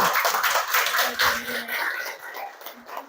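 Classroom applause for a student group after their performance, a busy patter of many hands clapping steadily at moderate loudness under a teacher's voice.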